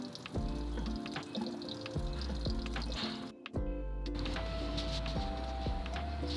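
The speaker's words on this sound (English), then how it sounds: "there is the coolant draining from the radiator" Coolant drains and trickles from the radiator of a Subaru WRX, a steady liquid pouring and dripping sound with a brief break midway before resuming.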